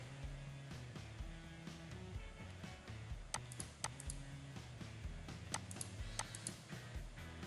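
Quiet typing on a computer keyboard while entering a birth date into an online registration form, with scattered soft key clicks and a few sharper taps over a low background hum.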